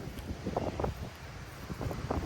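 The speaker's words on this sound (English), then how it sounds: "it is very windy" Gusty wind buffets the microphone outdoors beside a pond, a rough rumbling roar rising and falling in uneven bursts, with no voices.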